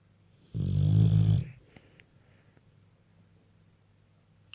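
Bullmastiff dog giving one loud, long snore of about a second, followed by quiet breathing and small snuffles, close and alone.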